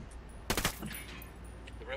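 A burst of rapid gunfire in the video game Ghost Recon Wildlands, striking a building. It is a short, loud cluster of shots near the start, followed by quieter game ambience and faint distant sounds.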